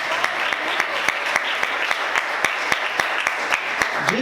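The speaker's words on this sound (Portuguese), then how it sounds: "Você pode aplaudir Jesus bem forte." A church congregation claps in a steady, rhythmic beat of sharp, evenly spaced claps with sustained worship music beneath, moderately loud and continuous throughout.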